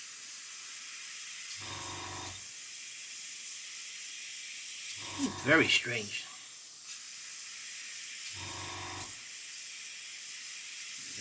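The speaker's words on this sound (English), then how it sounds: "It is spraying a lot nicer now." An old airbrush spraying thinned paint, a steady close hiss running throughout, briefly broken by short low bursts and a spattery sputter, with a brief spoken remark near the middle.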